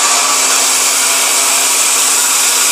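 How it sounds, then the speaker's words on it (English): A small grinding machine working down a Callaway X-20 golf iron, giving a loud, steady, high-pitched whine and hiss that holds constant throughout without a break. "All we need to do is start the grinding process. So first step of grinding, a little machine like this."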